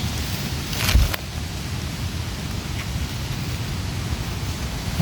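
Dry wind blows steadily outdoors as a low, continuous rumbling rush, with a brief louder gust or knock near the start, no talking.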